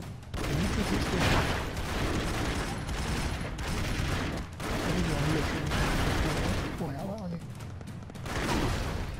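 Gunfire and blasts rattle through the Broforce video game in dense, near-continuous bursts that build and drop, with a voice talking over the chaos.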